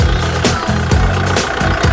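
A used 2012 Kubota L4708DT tractor's diesel engine idles up close with a steady, rhythmic knocking chug, pulsing about twice per second throughout.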